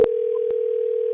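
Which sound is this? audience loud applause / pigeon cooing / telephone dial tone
telephone dial tone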